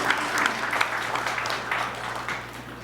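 A church congregation applauding at a spring gathering, a dense, steady wash of clapping from many hands, fairly loud and continuous throughout, with no voices over it.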